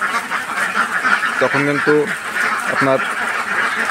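Ducks on a Bangladeshi farm quack in two short bursts partway through, someone talking steadily over them against a noisy outdoor background.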